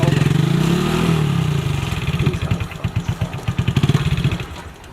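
Motorcycle engine running close by, a low rumbling idle that rises and falls once before settling into rapid rhythmic pulses as it revs.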